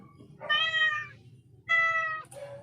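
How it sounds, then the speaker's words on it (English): A cat meows twice, clear and close, each a drawn-out harmonic cry with a short pause between. "It is a cat."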